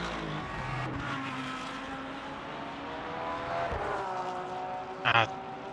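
Race cars in the Le Mans Ultimate racing game, GT cars among them, engines whining and shifting close by as they brake and accelerate in a bunched pack, with a brief tire squeal near the end and a commentator talking over it.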